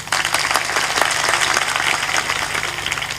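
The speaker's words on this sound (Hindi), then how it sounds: "ताली बजा दो" An audience at a religious satsang gathering claps in a steady, dense wash of many hands over a faint low hum, sustained and fairly loud.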